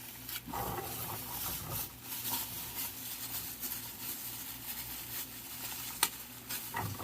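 Sliced carrots go into a hot pan for lechon manok with garlic, potato and lemongrass, sizzling steadily while a utensil scrapes and stirs through them, with no talking.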